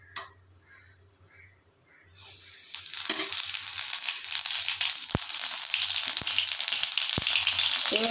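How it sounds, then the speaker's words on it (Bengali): Fennel seeds dropped into hot oil for tempering burst into a loud, steady sizzle and crackle after a quiet start, with a few sharp pops breaking through the frying hiss. "দেখো তেলটা একটু গরম হয়ে গেছে, এবার মৌরি দিচ্ছি ফোড়নে।"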